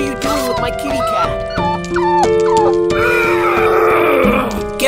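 A dog character barking in the Roblox game Brookhaven, its harsh yips repeating under a lively music track while voices talk over the scene.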